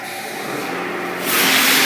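At an automatic car wash, a high pressure rinse sprays water in a loud, continuous hiss close by, growing stronger toward the end.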